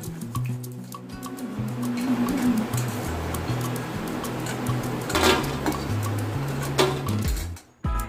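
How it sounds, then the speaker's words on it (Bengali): A few lentil dumplings (bori) fry in hot mustard oil in a wok over low to medium flame, giving a steady close sizzle with light clinks and pops throughout. "কড়াইতে একটু সর্ষের তেল গরম করে তার মধ্যে দিয়ে দিলাম এই কয়েকখানা বড়ি"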